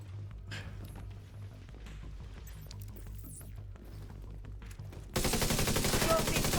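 A weapon opens fire in a video game: after a stretch of low, muffled game ambience, a loud, dense burst of continuous automatic gunfire erupts abruptly and carries on to the end.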